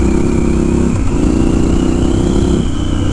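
A Triumph Scrambler 1200 XE rides off-road, its engine drone loud and close, holding steady and shifting pitch about a second in.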